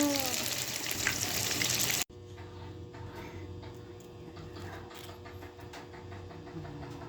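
Saba banana fritters coated in flour batter fry in a pan of hot oil, a steady, close crackling sizzle that runs without a break after a short louder burst at the start, with no voices.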